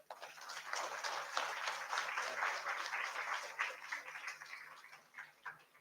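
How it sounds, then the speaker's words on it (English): A convocation audience applauds the graduates with a sustained, even wash of clapping from many hands that tapers off near the end. "A round of applause for all our graduates."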